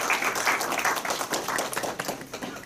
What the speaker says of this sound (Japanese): 皆様、もう一度発表者の方々に大きな拍手をお願いいたします